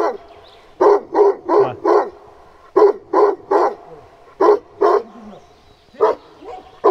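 Dogs barking on a mountain road, a loud close series of sharp barks in quick bursts of three or four with short pauses between.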